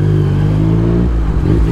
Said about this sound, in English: I love that little crackle on this exhaust.